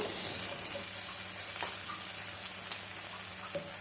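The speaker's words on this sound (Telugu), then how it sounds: "ఇప్పుడు ముందుగా కట్ చేసి గిన్నెలో పెట్టుకున్న బెండకాయ ముక్కలు వేసుకుందాం." Cut lady's finger pieces dropped into a pan of onions already frying in oil, giving a steady close sizzle with a few soft clinks and stirring scrapes.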